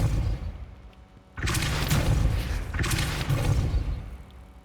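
Depulso spell cast in Hogwarts Legacy, a sudden loud whooshing burst that swells and then repeats once more before fading, with quieter ambience before it.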